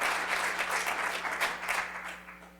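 A short burst of crowd applause at the Essex County College Martin Luther King Jr. memorial program. The clapping is loud and dense at first, then fades toward the end.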